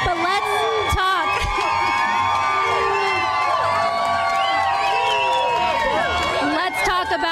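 At a fight event, a large crowd yells, whoops and cheers continuously in a dense, loud roar, with many overlapping voices and shrill shouts throughout.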